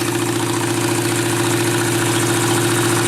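A motorcycle engine with an adjusted clutch idles steadily nearby, a continuous even rumble with a fine rhythmic pulse and no pauses.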